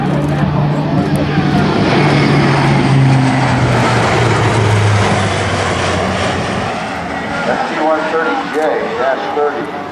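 A Lockheed C-130J transport powered by four Rolls-Royce turboprop engines, heard at an airshow: a loud, sustained propeller drone with a shifting pitch as the aircraft passes, under an announcer's voice.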